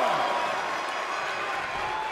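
A wrestling arena crowd in WWE 2K22 roars and applauds, a dense, steady wash of cheering and clapping with a faint tonal hum running beneath it.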